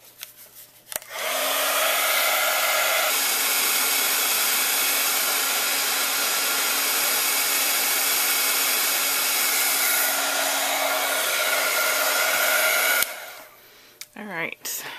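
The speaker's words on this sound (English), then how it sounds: "And then we'll get our heat gun going." Heat gun blowing for embossing on a stamped paper craft, a loud steady whooshing roar that switches on sharply and holds for about twelve seconds before cutting off, followed by faint handling noises.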